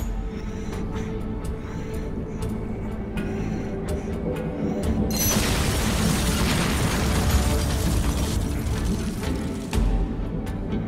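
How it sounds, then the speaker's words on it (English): A bomb blows up a building in the Van Helsing video game: a sudden loud blast about halfway through, followed by a dense rumbling roar that lingers over the game's steady background ambience. No one speaks. "You want to make that building go boom, yes?"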